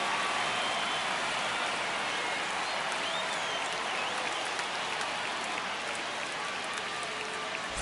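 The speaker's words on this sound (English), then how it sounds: "the crowd is amped up, ready to get this season underway" Steady, dense crowd roar from a baseball video game stadium on opening day, Twins at Cardinals, holding at an even loud level throughout with no break and no voices standing out.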